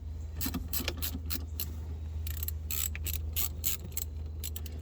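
Battery terminal clamps on a Dodge Durango being loosened by hand tool, giving a steady run of small metallic clicks and ratcheting creaks against a low constant hum, close up with no voices.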